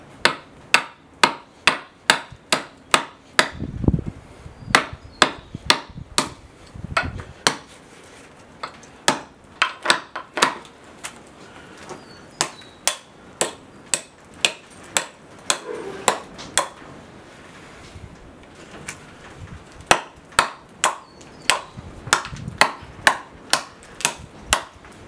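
Hatchet blows chopping knots off a rough Osage Orange wood cane blank, a steady series of sharp, close, evenly spaced impacts throughout with brief pauses between strokes.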